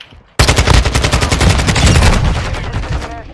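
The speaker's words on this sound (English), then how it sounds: "I can't fucking shoot them through walls." Rapid automatic gunfire from a Modern Warfare 2 match, a loud sustained burst of closely spaced shots that starts abruptly and tails off near the end.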